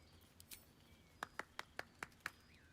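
Short burst of game applause from Baldur's Gate 3: about six crisp, evenly spaced claps, faint and close, with no talking.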